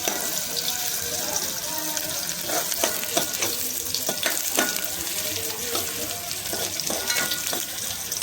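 Onions fry in oil in a pan for a brinjal, potato and dried fish dish, crackling with a busy, continuous sizzle and occasional stirring clatter close by.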